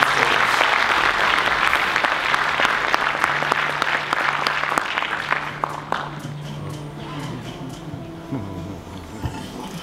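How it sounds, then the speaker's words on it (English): A conference audience at the FIATA World Congress 2019 opening ceremony gives dense, sustained applause. The clapping is close and full at first, then thins into scattered claps toward the end. "Please give him a very warm round of applause."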